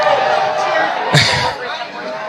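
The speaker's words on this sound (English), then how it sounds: "I'm sure you hear some of the crowd right now" Crowd at a Wisconsin Supreme Court election-night gathering, a steady babble of many voices with a brief louder swell of cheering partway through, heard at moderate distance.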